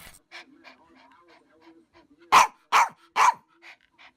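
A dog gives three loud, close barks in quick succession, with softer panting and snuffling around them and a person talking quietly in the background.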